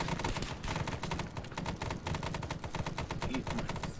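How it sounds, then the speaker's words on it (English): Helicopter door guns in the Arma 3 SOG Prairie Fire video game pour out sustained rapid automatic fire, a dense, unbroken rattle of shots at moderate loudness with no talking. "we'll stay in orbit and just provide any cover we can with the guns"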